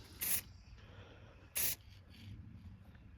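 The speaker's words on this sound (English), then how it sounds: "we're going to shoot this with some clear polyurethane and see how it comes out" Clear polyurethane sprayed onto an Epiphone Mike Dirnt bass guitar body in two short, sharp hissing bursts about a second apart, with quiet room tone in between.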